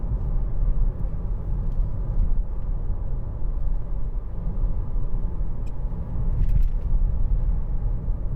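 A 2013 Mercedes-Benz C200 saloon on the move, heard as a steady low road and engine rumble from inside the cabin, constant and fairly loud, with a few faint light rattles near the end.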